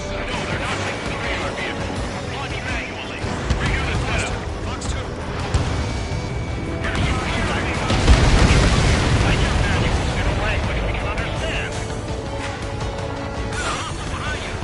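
Missile launches and explosions roar in the Ace Combat 7 combat flight game, a continuous loud rumble with heavy blasts swelling in the middle, under radio chatter and game voices.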